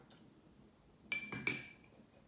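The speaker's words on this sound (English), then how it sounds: "I'm gonna add anything between a third to half a teaspoon of water" Glass clinks and a light tap against a glass while water is added to Macallan Scotch whisky, a few quiet, close, bright clinks in a still room.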